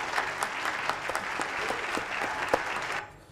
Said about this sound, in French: Applaudissements donc pour Léo Brière.